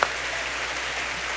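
An audience at a business seminar gives steady, dense applause, evenly sustained and without speech.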